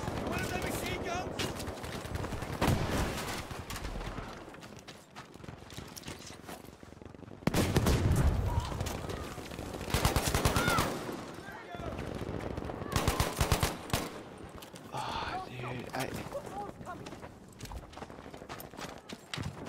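Assault weapon fire from Battlefield 5 with the Ribeyrolles 1918, bursts of sharp shots and rattling automatic fire amid busy battle noise, with clattering hoof-like sounds, loud then easing off, no talking.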